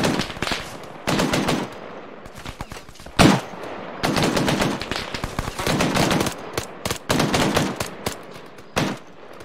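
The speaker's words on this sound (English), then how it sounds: "Return fire with the 50." A 50-calibre machine gun in the military game ARMA 3 fires long, loud, rapid bursts close by, separated by short pauses.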